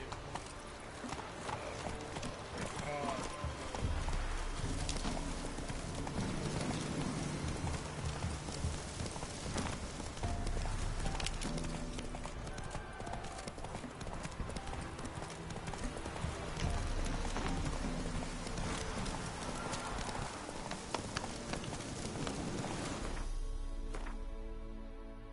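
Hooves of Roach, a horse in The Witcher 3: Wild Hunt, clip-clop in a fast steady gallop over a dense game soundtrack and rain-like ambience, continuous and loud, cutting out near the end.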